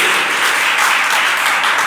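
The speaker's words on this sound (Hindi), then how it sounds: "एक बार जोरदार ताली आपके लिए" A crowd at an award ceremony claps in a steady, dense wash of applause, loud and close, with no speech over it.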